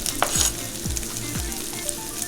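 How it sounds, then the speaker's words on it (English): Onions and mushrooms frying in a pan for keto burgers, a steady close sizzle with a few soft scraping stirs, no voices. "I think I'm going to go ahead and add in the onions."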